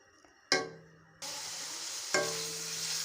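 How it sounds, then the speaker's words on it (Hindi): Chicken sizzles and crackles in a hot pan with home spices, a sharp burst as it's stirred, then a steady loud fry that flares again mid-way; no talking. "इसको थोड़ा सा और फ्राई करेंगे।"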